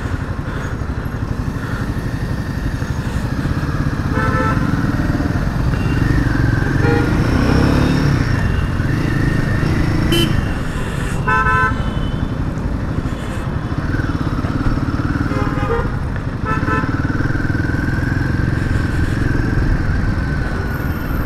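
A Royal Enfield Himalayan 450 engine hums steadily while riding, with a continuous, close, loud drone and slight rises and dips in pitch as the throttle changes, plus wind rush throughout.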